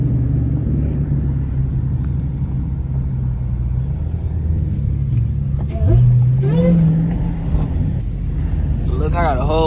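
A Chevrolet C8 Corvette and other cars, Hellcats among them, rumble steadily at the sand dunes, a low engine drone throughout that swells and climbs in pitch near the end, with someone talking over it.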